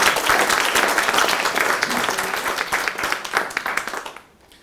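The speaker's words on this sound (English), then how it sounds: "How about a round of applause for everybody, the moderator, the panelists?" An audience applauds panelists and a moderator after a panel discussion on young people and the climate crisis, a steady wash of many hands clapping that fades out at the end.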